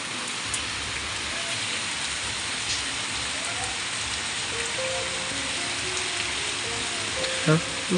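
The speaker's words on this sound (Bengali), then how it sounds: "ভালোই বৃষ্টি নেমেছে কিন্তু" Steady heavy rain pours down continuously, a dense hiss of drops close by with faint occasional clinks underneath.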